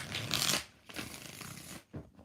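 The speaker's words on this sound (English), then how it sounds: "2 more shuffles" Tarot cards riffle and slide as they are shuffled by hand, close and crisp, one long burst then a second, followed by a brief tap, with no talking.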